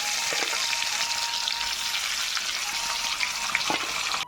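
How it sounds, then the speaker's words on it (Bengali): Rohu fish pieces frying one by one in refined oil, a close, continuous sizzle dotted with small crackles and pops throughout, no voices. "মাছটা আমি এক এক করে ভাজা করে নিচ্ছি।"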